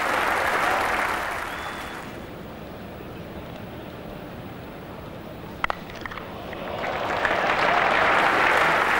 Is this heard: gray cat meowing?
no